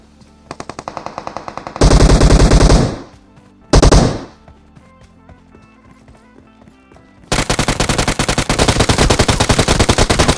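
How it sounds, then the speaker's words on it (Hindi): Bursts of rapid automatic video game gunfire, loud and close, with two heavy blasts of fire in between and a long sustained volley at the end. "तभी आगे से मुझे गोलियां चलने की आवाज आती है"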